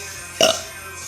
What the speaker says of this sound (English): Now I have to burp.